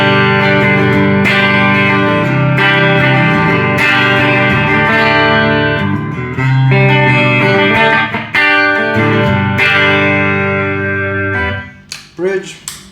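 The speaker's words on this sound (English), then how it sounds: "Okay, let's listen to the clean splits. So now we're in single coil mode." A PRS SE Custom 24 electric guitar plays clean in single-coil split mode through an amp, with strummed chords ringing out loud and sustained, each strum clearly separated, before a few quieter plucked notes at the end.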